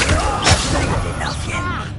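A Stupefy spell cast in a Harry Potter video game, heard as a sharp, loud magical blast with a bright burst in the middle, over continuous busy game sound effects.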